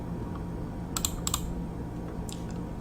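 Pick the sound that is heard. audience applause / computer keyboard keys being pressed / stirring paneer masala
computer keyboard keys being pressed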